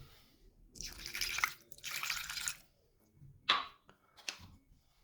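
Water poured in a few short splashing bursts into a bowl of olive oil mixture, close and moderately loud, with small drips between pours and no talking.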